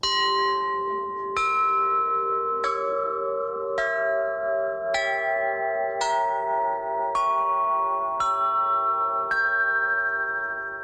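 Church bells struck about nine times at an even, unhurried pace, each stroke rising slightly in pitch and ringing on in long, shimmering overtones over a steady low hum.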